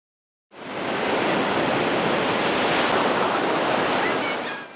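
Open-sea waves at Lhoknga beach in Aceh Besar, a surf spot, a sudden loud, broad roar of breaking water that sets in after half a second and stays steady, close and full, with no voices.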